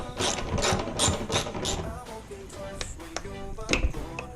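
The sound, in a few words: ratchet removing headlight bolts on 2013 Subaru WRX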